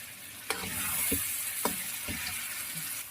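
Tomato puree and potatoes are stirred together in a hot pan for aloo gobhi: sharp spoon scrapes and clacks come every half second or so over a steady, close sizzle.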